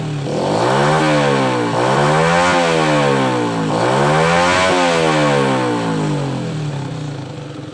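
An older Supra motorcycle being tuned for weak high-rpm power is revved hard at full throttle, its engine climbing and dropping in three loud, close sweeps with no one speaking.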